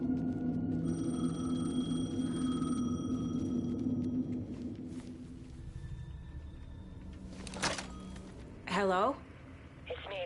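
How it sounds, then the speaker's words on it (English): A payphone rings in the video game Alan Wake 2, a repeated electronic trill that sounds several times over a low, droning ambient background, followed by a few brief warbling sweeps. "The payphone was ringing."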